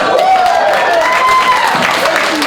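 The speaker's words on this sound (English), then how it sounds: "Let's give our VP candidates a great round of applause" Audience applauding VP candidates at an executive candidates Q&A, a steady wash of clapping from a room full of people, fairly loud and continuous, with some voices mixed in.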